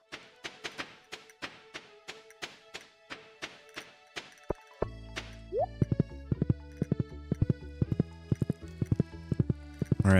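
Horse hooves clip-clop in the video game Stardew Valley, a steady run of evenly spaced clacks for several seconds that gives way to light, plinking game music.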